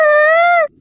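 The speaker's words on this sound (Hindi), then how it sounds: "और वो रोने की आवाज किसकी है?" One short, loud, sustained wailing cry holds a steady tone, then cuts off abruptly.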